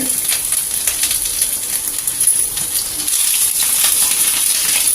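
Ginger and garlic frying in about two tablespoons of oil in a kadai, a loud steady close sizzle with bright crackling hiss throughout, no talking.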